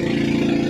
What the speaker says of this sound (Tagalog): Gamit namin, single na makina lang mga master.